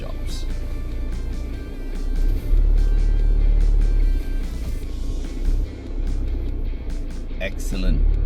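Off-road vehicle on BFGoodrich KO3 all-terrain tyres creeping slowly up loose dirt, a low steady engine drone with occasional swells, heard under people talking.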